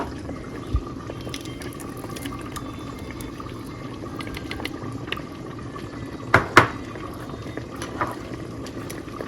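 A pot of Ogbolor soup with okra simmers and bubbles steadily on the stove while being stirred, a continuous soft bubbling texture with a few louder clinks of the spoon against the pot.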